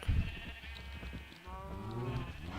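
Cows in a video game farm give a few drawn-out lowing calls, rising and falling over a low, busy background of game ambience.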